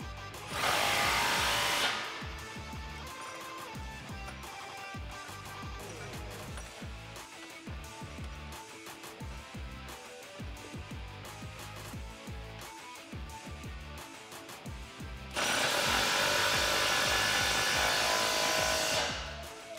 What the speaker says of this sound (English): Grab an 18mm socket and tighten these down.